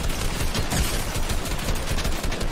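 Video game gunfire in a dense, continuous stream of rapid shots, loud and unbroken from start to end, with no voices over it.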